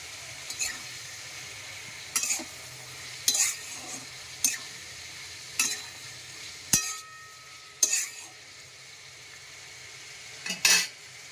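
Cabbage, carrot, broccoli and capsicum stir-fry in hot oil with mustard seeds and chilli, a soft sizzle broken by regular clinking stirs of a spoon against the pan.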